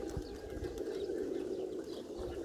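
A large flock of around 700 pigeons mills outdoors, giving a dense, steady murmur of soft cooing and wing flutters at moderate distance.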